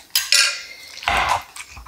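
Scraping and grinding strokes of a stone pestle crushing tomato in a stone molcajete, a few rough bursts with short pauses, close and fairly loud.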